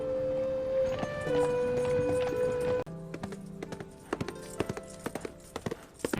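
Steady, close clip-clop of horse hooves in a quick rhythm, following a sustained musical tone at the start.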